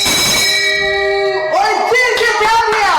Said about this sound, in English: Ring that bell and make suffer.